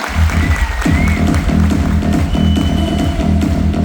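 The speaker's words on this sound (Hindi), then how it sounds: "मैं चाहती हूँ दमदार तालियां" Loud, sustained audience applause at a Safe Shop gathering, with dense clapping running the whole way through over a booming music bed, and no voices on top.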